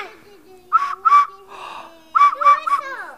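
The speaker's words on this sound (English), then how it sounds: "It's a whistle." A small plastic whistle found inside an Easter egg is blown in short bursts, two quick toots, a pause, then three more, loud and close, with a voice in between.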